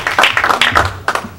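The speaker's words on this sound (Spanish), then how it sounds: "Un fuerte aplauso para los ingenieros." Short burst of audience applause for engineers at an award ceremony, several uneven claps close to the microphone, brief and loud with no voices.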